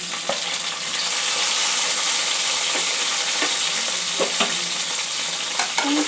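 Spices tempering in hot oil with chopped tomatoes frying for a ridge gourd curry give a steady, close sizzle and hiss, broken by scattered scraping clicks from stirring.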